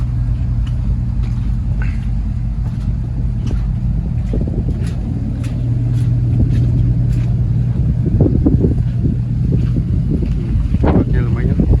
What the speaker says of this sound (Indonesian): Jalan-jalan di sini lagi hujan dan angin.